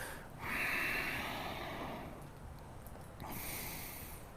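Soft, quiet breathing during a low lunge yoga pose, with one audible exhale through the nose and slower breaths after it.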